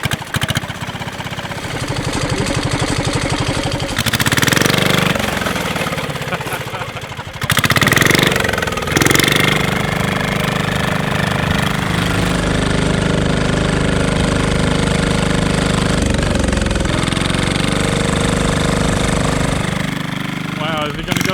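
A diesel go-kart engine revs hard and holds a loud, rough drone as its torque converter engages only partway, the pitch surging and dipping through the run, with a voice briefly heard over it.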